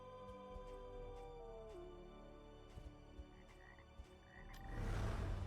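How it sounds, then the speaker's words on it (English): Frog croaks from the video game Darkest Dungeon 2 ring out a few times over a steady hum of game music and ambience, ending in a louder burst of noise. "Hey, I heard the frog."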